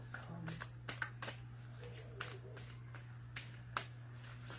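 A deck of reading cards being shuffled by hand, giving soft, scattered riffling clicks and snaps over a steady low hum, with several sharper flicks spread across a few seconds.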